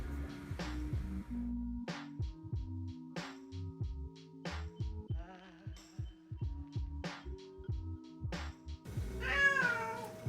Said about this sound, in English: So my cat's gonna scream this whole time